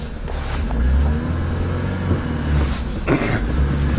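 A small, worn car with a high clutch drives along, its engine giving a loud, steady rumbling drone with slight rises in revs, heard close from inside the cabin with no talking.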